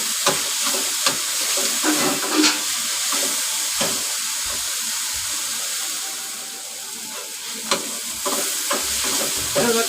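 Tomatoes cook down in a pan with a steady, close hiss of frying while a utensil scrapes and taps now and then, for a Malvani-style dry prawn dish; the sizzle stays even throughout with no speech.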